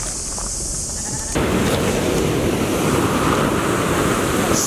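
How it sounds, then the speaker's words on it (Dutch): Big ocean waves break along the New Zealand coast as a steady, loud broadband roar of surf. It swells abruptly after a quieter opening and continues unbroken, with no speech. "Serieuze golven."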